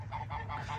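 Farm geese honk in a series of about four nasal calls, close and fairly loud, over a low steady rumble in the background.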